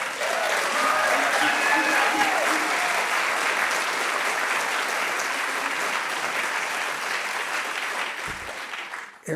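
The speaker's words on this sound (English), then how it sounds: "we're going to have a lot of practice with that kind of clapping" Sustained audience applause at a celebration of the Coleman archive, dense and steady for the whole stretch, with a few voices faintly audible over the clapping.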